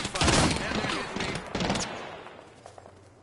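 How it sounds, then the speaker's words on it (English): Apex Legends gunfire erupts as a loud burst of rapid overlapping shots, then a second volley. It fades into quieter game ambience. "Shot fired."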